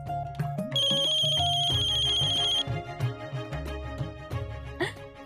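A mobile phone ringtone plays a melodic musical tune, fairly loud and nearby, with a sustained high electronic tone partway through and music continuing underneath.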